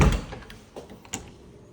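The side door of a building is opened, a solid knock and rattle at the start followed by a few softer clicks and a short latch-like tap, close and brief, with no speech.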